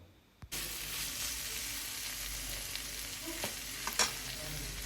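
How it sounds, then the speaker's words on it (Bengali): Potatoes and beans sizzle steadily in hot oil in a wok, with occasional scraping and clinking of a utensil stirring the pan. "আর এই কড়াইতে এখন আলু আর সিম ভাজা হচ্ছে"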